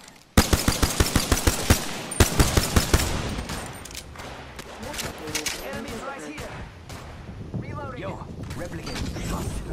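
Rapid bursts of automatic gunfire ring out in a video game, sharp and repeated at first, then giving way to a denser wash of shooting and other game effects.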